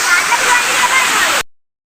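Ballamala waterfall in Ratnapura, Sri Lanka, roars as a loud, dense, constant rush of falling water heard close up before cutting off abruptly.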